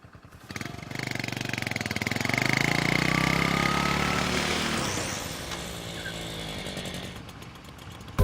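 A small motorcycle engine revs and runs steadily nearby, loud and buzzing, then drops to a lower idle toward the end.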